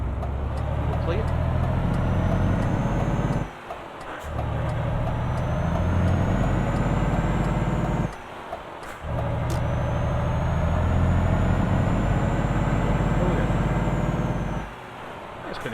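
Heavy truck on a road run from Esbjerg to Aalborg carrying wind turbine parts, a continuous loud engine drone broken by short hissing air-brake releases at intervals, with a voice talking at times.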